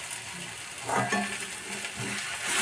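Drumstick flowers being stirred and fried in a pan, a steady close sizzle with scraping stirs rising around the middle and again near the end, no voices.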